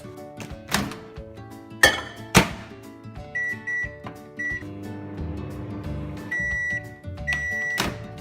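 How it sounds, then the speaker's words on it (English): A microwave melting butter hums along with clunks and a door thud, then a run of short electronic beeps sounds in pairs near the end. "The butter needs to go in the microwave"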